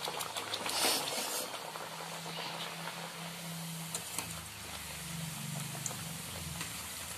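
Beetroot kachuri, a stuffed fried bread, deep-frying in hot oil: a steady, dense bubbling hiss with a low hum running underneath throughout.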